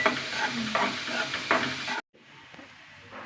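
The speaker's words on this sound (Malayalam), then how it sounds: "നന്നായി മൂപ്പ് വെച്ചിട്ട് ഒരു ബ്രൗൺ കളറാണല്ലേ നന്നായി വഴക്കണം" Onions or aromatics are being sautéed until browned for an egg curry, giving a loud, steady frying sizzle broken by stirring scrapes, then an abrupt cut to a quieter, fainter sizzle.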